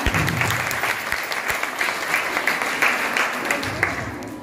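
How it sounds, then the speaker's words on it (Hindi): Applause from an audience at a Women's Day gathering, a dense, sustained clapping close by and fairly loud throughout, with some crowd murmur underneath. "अब खुद के लिए ताली बजाने में इतनी कंजूसी नहीं करनी चाहिए।"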